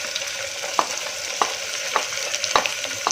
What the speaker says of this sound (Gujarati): ડુંગળીને આપણે થોડી વાર માટે કૂક થવા દઈશું